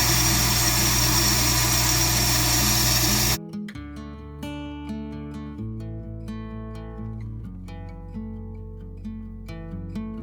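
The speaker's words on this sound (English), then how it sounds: "I cleaned the machine out by running oatmeal through it and got it everywhere" An electric grain grinder runs oatmeal through it with a loud, steady, dense whir for about three seconds, then cuts off, leaving a quieter sustained tonal hum.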